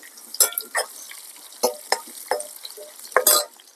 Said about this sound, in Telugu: ఉల్లిపాయలు వేస్తున్నాం,